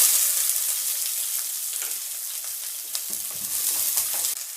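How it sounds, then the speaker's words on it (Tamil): Chopped onions and curry leaves sizzle and crackle steadily in hot oil for a chickpea curry (kadalai kuzhambu), a bright close-up frying hiss with occasional pops and faint stirring. "நறுக்கி வச்சிருக்கிற வெங்காயத்தை அது கூட ஆட் பண்ணிக்கலாம்."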